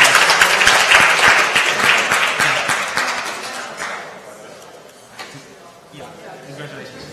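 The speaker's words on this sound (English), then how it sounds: "please give a big round of applause for Slide Wiper as well" Audience applause at a startup event's prize award, a dense, loud wash of clapping from many hands that gradually thins and fades to scattered claps.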